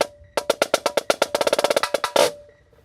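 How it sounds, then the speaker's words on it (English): Close, loud snare drum passage: steady single strokes speed into a dense flurry, then release into a short, hard buzz roll that rings out briefly before silence, with no voices. "And then the release is going to be a hard buzz."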